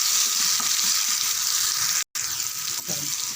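Ground chutney paste sautéing in a hot pan for kara podi chutney, giving a steady close sizzle and crackle throughout, with a brief dropout near the middle and faint stirring clinks.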